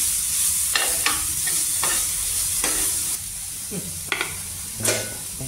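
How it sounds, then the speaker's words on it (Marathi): Potatoes for aloo chaat katori frying in oil with steady sizzling, while a spoon scrapes and stirs the pan in several distinct strokes, close and clear. "थोडासा फ्राय करून घ्यायचा"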